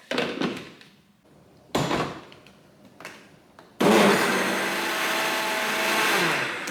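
A blender starts with a loud whirring roar and keeps running steadily, after a few short clunks and knocks beforehand.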